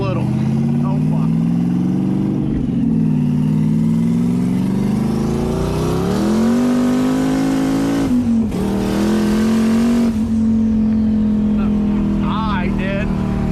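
Twin-turbo LS1 V8 in a BMW E30 with a big cam, idling with a lumpy loping note and blipped revs, loud and close, while people talk nearby.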